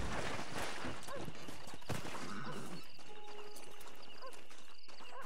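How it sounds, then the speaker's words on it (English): A horse in the video game Red Dead Redemption, its hooves clip-clopping along with a whinny, close and fairly loud at first, then settling under softer game ambience. "That's not my horse."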